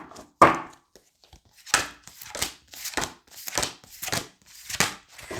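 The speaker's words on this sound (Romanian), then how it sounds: "Simt încă o dată să amestec pachetul." A deck of tarot cards being shuffled by hand, a run of about eight crisp riffling bursts in a fairly even rhythm, close and alone without talk.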